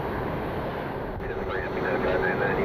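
Aer Lingus airliner taking off from a runway at Cleveland Hopkins International Airport, a loud, steady roar of jet engines with wind buffeting the microphone, a voice speaking over it.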